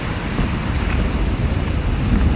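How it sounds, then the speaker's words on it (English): Strong wind roars and buffets steadily, with heavy low rumbling against the microphone throughout and no voices. "It's bloody windy today."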